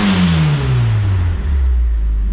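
Turbocharged 2.0L engine in a Pontiac Fiero revving, loud and close: a steady low engine roar whose pitch sweeps downward as the revs fall back over a couple of seconds.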